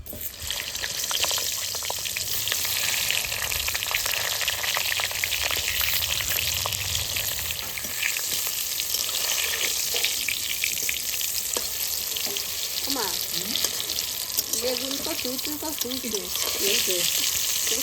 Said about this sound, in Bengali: তেলে ছেড়ে দেবো